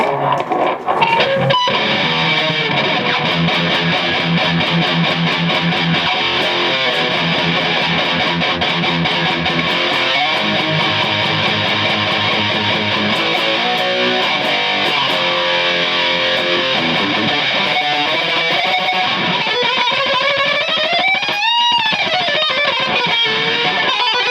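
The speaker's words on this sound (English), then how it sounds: "the metal zone with everything to the max" A Boss MT-2 Metal Zone distortion pedal with every knob turned to maximum, driven by an electric guitar playing heavy, saturated chords and riffs that ring loud and continuous throughout, with no talking.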